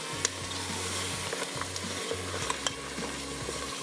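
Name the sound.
paya frying in butter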